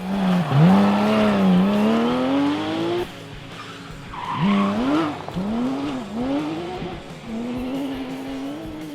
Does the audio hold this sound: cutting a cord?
no